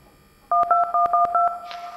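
Touch-tone dialing on a phone in a plane-accident investigation video game: about seven quick, loud, evenly spaced beeps in a row, clean and close, with a faint hiss after.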